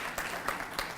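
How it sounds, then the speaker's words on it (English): Audience applause for a lecture speaker at a MISTRA lecture: a short burst of steady, moderately loud clapping from a crowd, with no talk over it. "I think we should give him a round of applause."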